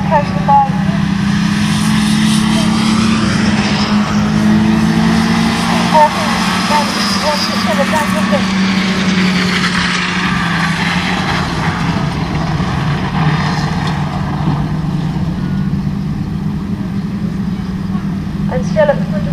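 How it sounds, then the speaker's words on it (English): Autograss race cars in a class 1 A final at Nottingham sweep around the top bend, their engines a steady, loud, continuous drone under a commentator's voice. "And as they come around the top bend against him, N3, Lloyd Elliott."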